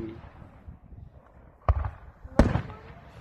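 Fireworks go off outdoors in Linden, two sharp distant bangs standing out against a low background rumble.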